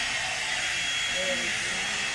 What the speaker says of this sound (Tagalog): Meron na siyang blower.